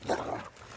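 A dog gives a short, close bark or yelp, one quick burst that fades into quiet background.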